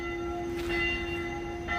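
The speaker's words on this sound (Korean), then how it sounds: "아, 6시가 되니까 종소리가 나네요. 아마 이게 천주교 성당에서 나는 소리인 것 같습니다." Bells of a Catholic church ringing at six o'clock, a sustained metallic toll with steady overtones heard from some distance outdoors, with fresh strikes renewing the tone under a low background rumble.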